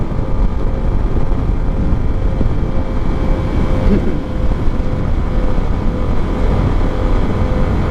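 A Yamaha Sniper 155 motorcycle cruises in sixth gear at around 80, its engine a steady, relaxed low drone under heavy wind rush, continuous and even throughout with no voices.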